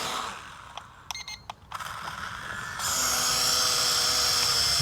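A small toy drone's electric motors whir as it strains and fails to lift off, with brief clicks and stutters first, then a steady high buzzing whine that grows louder and holds, close by with no talk.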